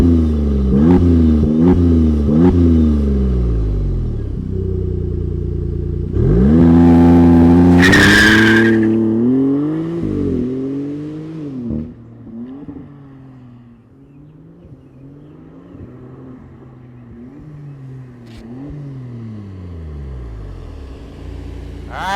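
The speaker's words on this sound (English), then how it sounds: "let's fire up this Maserati and hear what it sounds like." Maserati MC20 twin-turbo V6 supercar engine firing up and revving hard, loud close-up, with repeated rising and falling revs and a sharp burst of exhaust noise partway through.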